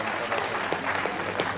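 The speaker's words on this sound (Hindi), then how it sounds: "एक बार जोरदार ताली" An audience at a Banjara community event in New Delhi breaks into applause, a brief burst of dense clapping heard close and fairly loud with a low hum underneath.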